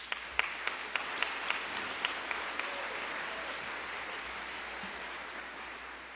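A high school graduation crowd applauds honorees in a large venue, a soft, distant wash of clapping with a few sharper individual claps standing out near the start before it thins and fades.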